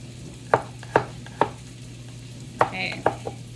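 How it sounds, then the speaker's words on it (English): Garlic being chopped finely with a knife on a board: several sharp, separate taps at an uneven pace over a low steady hum, close and fairly quiet, with no talk. "Don't judge the way I chop garlic."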